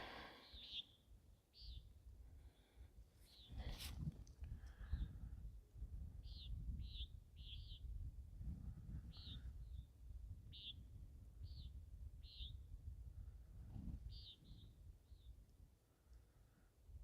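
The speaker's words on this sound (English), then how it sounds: "Got a lot of birds out." Birds chirp outdoors in repeated short, bright calls spaced every second or so, moderately close, over a low rumbling background.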